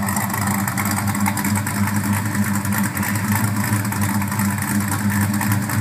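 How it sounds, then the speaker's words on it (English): A 1969 Plymouth Roadrunner with a 512 stroker engine idles steadily through a TTI exhaust with Dynamax super turbos and oval-cut tips, giving a loud, continuous, lumpy rumble with no voices. "This is a TTI exhaust with Dynamax super turbos."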